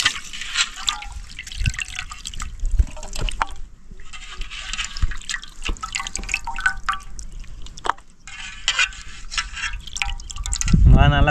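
Chicken pieces are rinsed in water while cooking outdoors in a forest, giving close, irregular sloshing, dripping and splashing that continue throughout and grow louder at the end.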